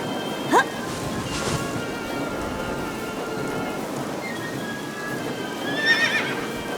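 A horse whinnies in the video game AI: The Somnium Files, with a brief high neigh near the start and another near the end, both heard over steady rain-like ambience and faint background tones.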